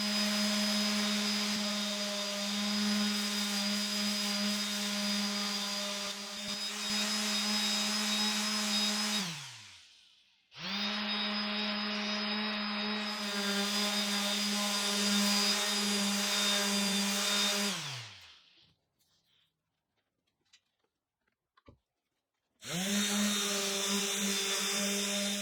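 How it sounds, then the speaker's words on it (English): Power sander working over the bevels and rounded corners of a plywood desk, a steady whining motor hum in long runs that wind down to silence, with a quiet gap of faint taps before the sander starts again. "Next, I'll sand the bevels and smooth out the points on the rounded corners."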